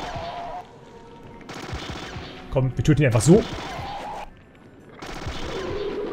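Bursts of rapid gunfire from the strategy game Battle Isle Phase 4, a short cluster of loud shots in the middle between stretches of game ambience, with a voice talking over the start.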